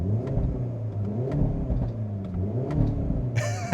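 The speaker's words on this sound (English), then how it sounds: "The pops and the crackles, I have to say, are just absolutely hilarious." A 2025 Hyundai Elantra N with a six-speed manual revs in N mode, its engine rising and falling in loud, near bursts with crackling exhaust pops, and a brighter burst of sound near the end.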